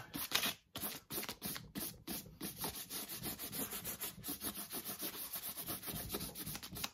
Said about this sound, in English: what I'm gonna do is just sand it down and bring it back